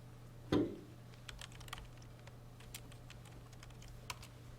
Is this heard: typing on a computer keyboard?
yes